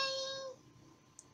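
A cat meows in the video game Angel of Death: one clear, tonal meow for about half a second, moderately loud, followed by quiet room tone and a tiny click.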